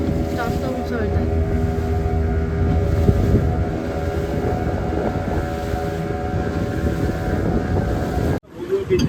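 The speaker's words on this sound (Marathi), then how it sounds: "लाटा पण जास्त उसळत आहेत." Strong wind and surging sea waves at Bhogwe beach near Nivati lighthouse in Malvan, a loud, steady roar up close that continues throughout and breaks off briefly near the end.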